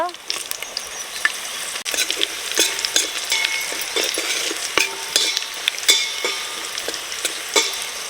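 Garlic and dried red chillies fry in hot oil as a tempering for buttermilk rasam, a steady close sizzle with frequent sharp clinks and scrapes of a stirring spoon against the pan throughout.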